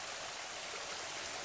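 A small waterfall feeding a stream of clean water in a natural pool gives a steady, bright, full rushing hiss, close and uninterrupted, with no voices.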